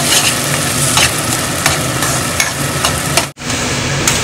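Food frying in a pan until golden brown, a loud continuous sizzle with regular stirring scrapes, cut by a brief silent gap near the end before the sizzle resumes.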